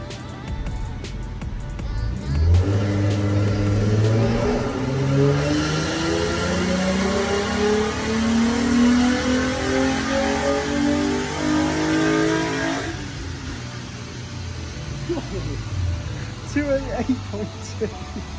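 A remapped Nissan 350Z revs hard through a full dyno power run making 288.2 brake horsepower, the engine note climbing steadily for about ten seconds, loud and close, then dropping away as the throttle closes.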